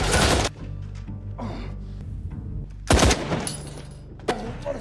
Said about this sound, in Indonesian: rentetan peluru menghujani mereka dari bukit sebelah utara